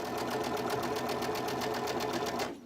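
A sewing machine stitches fabric for pleats and ruffles with a fast, steady mechanical whir and rapid needle rhythm, then stops abruptly near the end. Close by, with no voices.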